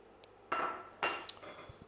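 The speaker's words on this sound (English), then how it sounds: "Just give it a good stir around to make sure it's all nicely coated and covered." Leftover turkey, white and brown meat, being stirred in korma curry sauce in a pan, giving two clear scraping clinks of a utensil against the pan plus a few fainter taps, close and quiet.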